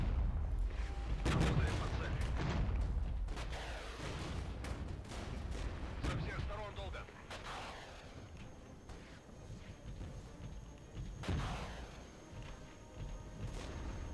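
Rockets are fired at Soviet tanks in a Cold War video game battle, landing as a series of sharp, booming blasts and crashes that burst out repeatedly over a rumbling low background.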